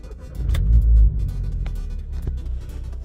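A modified Volkswagen Polo GTI cranks and fires up close by, with a heavy low rumble that swells at the start before settling into a steady, throbbing idle.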